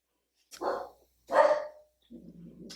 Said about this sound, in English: Shame on these dogs for interrupting my video.